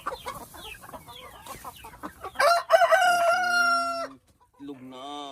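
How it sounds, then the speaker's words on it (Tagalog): Silkie chickens cluck in a busy cluster nearby, and a rooster crows loudly in a long drawn-out call, followed by a brief pause and more clucking. "Ito yung ating mga silky."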